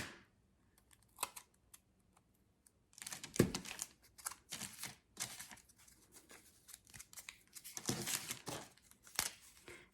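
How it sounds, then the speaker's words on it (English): Double-sided tape being pulled, torn and pressed onto a cardboard base, a quiet close sequence of crinkling, peeling and snipping sounds in irregular bursts with brief gaps, no talk. "I'm going to use double-sided tape because that's what I have."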